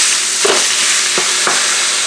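Ground beef sizzles loudly in oil in a hot pan for Creole-style tacos, with a steady bright frying hiss broken by several distinct scraping stirs close by, without any voices.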